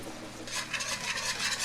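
Beer is whisked into a caramel-coloured roux in a pot, giving a soft, continuous rasping swish that rises in the second half as the stirring picks up, close by with no talk.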